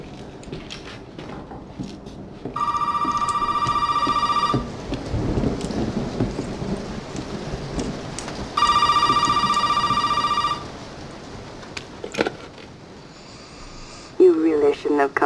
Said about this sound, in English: Let's go find that phone.